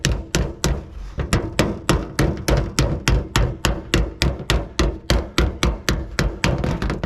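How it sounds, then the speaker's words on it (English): Hand hammering on a standing seam metal roof: a steady run of about twenty sharp, close hammer strikes on the seam at an even, brisk rhythm, with no talk. "start hammering that at a 90 as best as I can"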